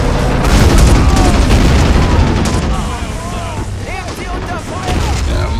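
Heavy gunfire and booming blasts aimed at a tank in the World War II strategy game Men of War: Assault Squad 2, with loud continuous rattling volleys and deep thuds, plus fainter battlefield voices and shouts in the background.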